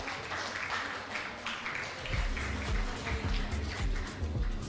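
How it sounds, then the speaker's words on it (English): Applause from a symposium audience comes through as a faint, dense patter of clapping, with a low rumbling thump joining in partway through. "Please let us give them a warm round of applause."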